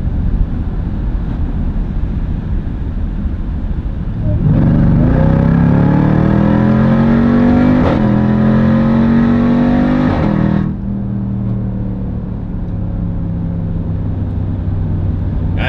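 A 710 PS Jeep Grand Cherokee Trackhawk engine, recorded from inside the cabin, roars loudly as it accelerates hard through rising gears, with a steady drone before and after the surge.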